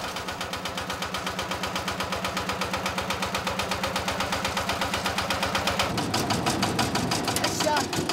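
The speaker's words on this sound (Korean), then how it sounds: "옛것을 유난히 좋아하는 할아버지의 애마, 경운계 시동이 걸립니다" An old power tiller's engine fires up and settles into a fast, loud, knocking idle close by, its thumping rhythm growing harsher partway through.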